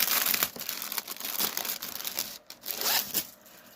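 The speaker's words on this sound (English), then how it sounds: "Sorry for the crinkle." Plastic bag holding a stamped cross stitch kit crinkles and rustles continuously up close in a steady crackling, with no voices.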